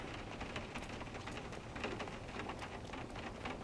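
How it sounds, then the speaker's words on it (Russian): Rain drums steadily on surfaces in the video game inFamous: First Light, a quiet continuous patter of many drops with no voices. "А, дождь барабанит."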